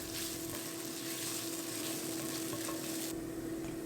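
Tomato paste and roughly chopped garlic sizzle in a hot pan while cooking Turkish kofte with eggplants, a steady, close frying hiss with faint stirring and no talk.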